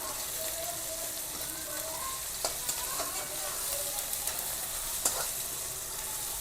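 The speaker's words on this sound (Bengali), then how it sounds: "টমেটোটা গলা পর্যন্ত ভেজে নেব।" Tomato frying in a pan for a ridge gourd (chichinga) fry, a soft steady sizzle with a few scraping stirs and clinks, close by with no talking.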